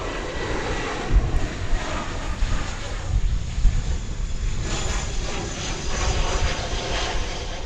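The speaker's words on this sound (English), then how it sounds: "Another 20th century aircraft as saluted by the Runway DFW chorus" An airliner passes at DFW Airport with a steady, loud engine roar and broadband rumble that swells slightly and persists throughout, with no clear voices.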